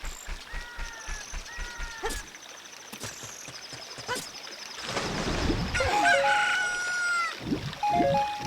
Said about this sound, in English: So the item we are carrying has now become a chicken. Or a cuckoo